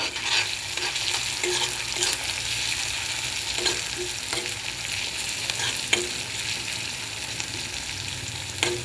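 Onion, garlic and ginger cooking in a pan for Punjabi-style dal makhni, a steady close sizzle with frequent stirring scrapes and occasional utensil taps against the pan, no voices.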